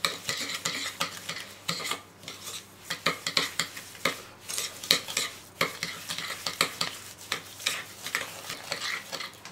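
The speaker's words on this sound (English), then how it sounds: "Now to that I am going to add 1 cup of granulated sugar and cream them all nicely together" Butter and granulated sugar creamed together in a bowl for chocolate chip muffins, with repeated scraping and clinking strokes in an uneven rhythm, close and moderately loud, with no one speaking.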